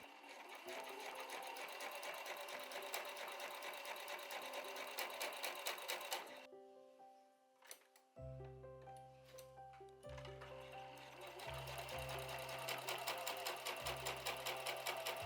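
A sewing machine stitches triangle fabric pieces for a small hexagon-pattern pouch, its rapid steady whir running close and loud, pausing midway for a few seconds of quieter handling before resuming in short bursts and then a long continuous run.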